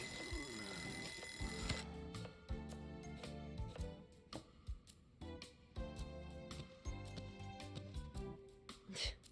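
An alarm clock rings in the Lost Judgment video game, a loud electronic tone over a busy game soundtrack that breaks into repeated bursts before cutting off.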